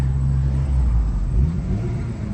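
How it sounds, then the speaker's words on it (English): Inside an ES1 Honda Civic with a K20 engine swap, the exhaust drones with a deep, steady low rumble and a slight rise in pitch as it accelerates, with no talking. "Oh, and the exhaust. It sounds really good."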